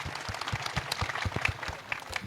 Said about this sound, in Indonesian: tepuk tangan buat RG, Rocky Gerung.